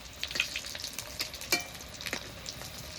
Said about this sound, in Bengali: কাটলেটগুলো আর এক পিঠ ভাজা হতে থাকবে